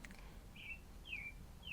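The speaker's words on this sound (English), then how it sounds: "sorry if you hear a bird, it's not my pet, it's outside the window" A wild bird calls outside a window, giving three brief, thin chirps spaced roughly half a second apart, faint and somewhat distant above a steady low room hum.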